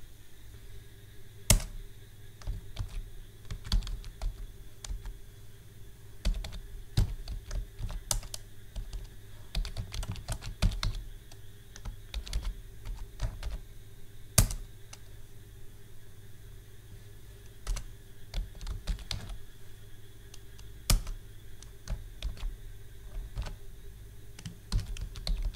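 Typing a C program on a computer keyboard in Visual Studio Code on Ubuntu: steady bursts of close, clicky keystrokes with short pauses throughout, over a faint constant hum and no speech.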